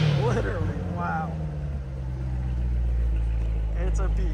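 A 2017 Corvette Z06 3LZ coupe idles with a deep, loud engine rumble that holds steady, someone speaking over it at the start.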